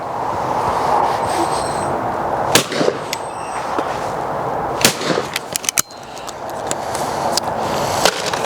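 An over-and-under shotgun fires at clay targets outdoors, several sharp close cracks spaced irregularly over a steady background rumble.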